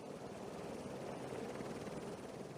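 A helicopter at a mountain ski base where it is refuelled gives off a steady, fairly distant rotor and engine drone that holds level throughout, with no voices.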